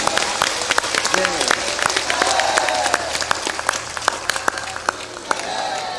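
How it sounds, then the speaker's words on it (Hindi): Satsang audience in Bhagalpur, Bihar, clapping loudly in a dense burst of applause that continues for several seconds. "जोर से बजाओ ताली, दमदारी के साथ।"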